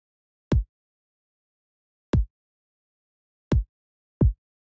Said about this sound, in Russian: Без обработки кик в оригинале звучит вот так.